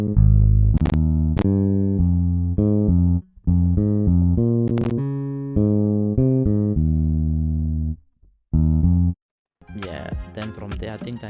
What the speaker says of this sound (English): Then we have another section of the bass